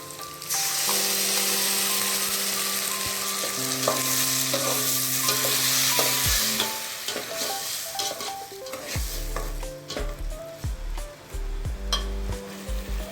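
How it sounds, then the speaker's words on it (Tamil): Loud, continuous sizzling and bubbling as crushed tomatoes go into boiling kara kuzhambu in a pan, with stirring and occasional clinks of a utensil against the pot. "இப்போ இந்த கொதிச்சுட்டு இருக்கிறதுல தக்காளி நம்ம கையில் கசக்கி வச்சுருக்கோம்ல, அதை வந்து ஆட் பண்ணிடணும்"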